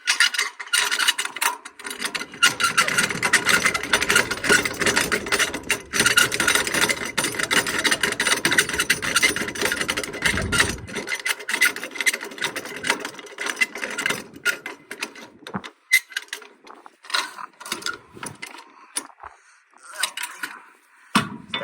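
A hand-cranked strap winder rolling up flatbed truck straps outdoors, loud ratcheting, grinding mechanical rasp in fast continuous bursts, with brief pauses and softer rattles toward the end.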